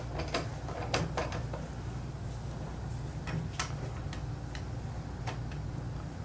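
The crank of a pasta press being turned by hand, giving a string of sharp mechanical clicks and ticks at an uneven pace over a constant low hum.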